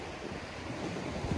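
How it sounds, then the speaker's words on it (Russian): Rough Black Sea waves at Sochi churn in a steady, loud wash of surf mixed with gusty wind rumble, continuous throughout with no voices. "Море волнуется."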